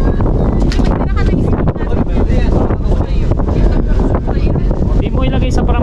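Strong, cold wind blows across the microphone aboard a ferry at Manly Wharf, a loud continuous roar with gusty buffeting throughout, while people speak underneath.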